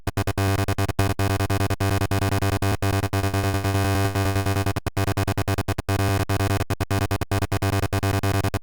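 A glassy psy lead synth patch built in the Vital synthesizer in the style of an Access Virus, a dense bright sustained tone with rapid choppy gating that cuts in and out, loud and alone.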